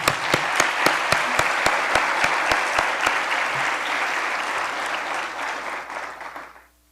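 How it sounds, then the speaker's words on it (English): An audience at the closing ceremony of the UN World Data Forum 2024 applauds in a sustained, steady round, with a few sharp claps standing out early, before the clapping fades out at the end. "Let's give another applause."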